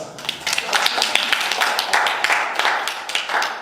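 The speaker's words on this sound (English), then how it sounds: "There you go. Round of applause." A small group claps in a round of applause after a guided blind photo exercise, with dense, close handclaps that run steadily for several seconds and a voice talking faintly underneath.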